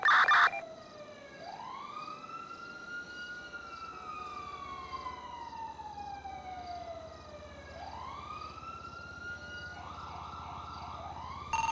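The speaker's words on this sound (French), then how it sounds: "Toujours full sirène, hein." A wailing police siren in a jewelry store heist game scene sweeps up and down in long slow cycles, steady and fairly close, with a couple of short loud bursts at the start and end.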